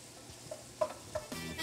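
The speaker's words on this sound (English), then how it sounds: "So we're frying down our sausage right now." Sausage sizzles quietly in a pot with a few soft stirring scrapes, a short and faint cooking sound with no talk.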